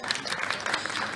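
Audience applause at a funny Urdu poetry recital (mushaira): a dense, steady patter of many hands clapping, moderately loud and continuous across a short stretch, with no voices standing out.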